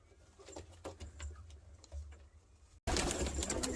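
Racing pigeons coo softly in a loft with a few low, throaty calls and light rustling. A sudden loud, noisy burst cuts in near the end.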